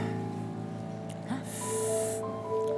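A single sharp, audible intake of breath rises partway through, fairly close and alone, against a steady low hum with no talking.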